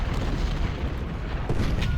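Deep booming artillery cannon fire from a Civil War battle in the strategy game Ultimate General: Civil War, with 3-inch ordnance rifles and 12-pounder guns, a continuous dense rumble of overlapping distant blasts with no voices.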